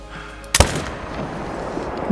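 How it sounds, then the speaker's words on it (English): A single loud rifle shot cracks out at a fox while hunting in the video game Call of the Wild, followed by a softer decaying tail and quiet ambient hiss. "so I'm gonna shoot it"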